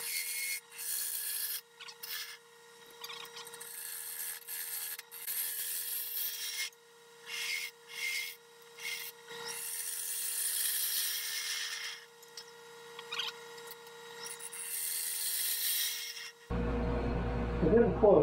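Wood is rasped and sanded off a Bradford pear piece in repeated scraping bursts separated by short pauses, with a steady hum underneath, ending in a louder mechanical whir.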